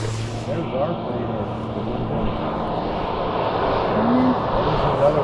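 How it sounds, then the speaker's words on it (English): A small plane flies over Katmai National Park, its engine droning steadily in the background and growing slightly louder, while people talk nearby. "There's our plane."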